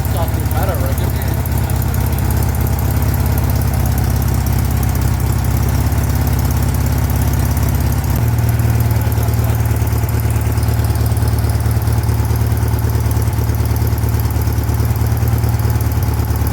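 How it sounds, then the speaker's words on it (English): A VW engine idling steadily after a cold start with new spark plugs, a loud, low, even rumble close to the microphone, shifting slightly in pitch partway through as the idle settles. "One of the best cold starts we've had, I reckon."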